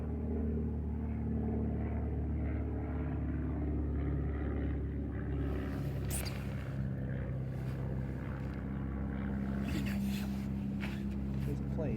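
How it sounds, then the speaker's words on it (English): An airplane passes overhead in Grosse Pointe, Michigan, on a December day, making a low, distant, steady rumble with some wind noise. A person talks quietly near the microphone. "There's a plane."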